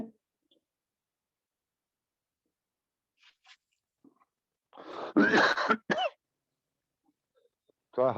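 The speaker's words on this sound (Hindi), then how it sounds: "थोड़ा हल्की खांसी हो सकती है" A few soft throat clicks, then a short cluster of light coughs close up, followed by quiet.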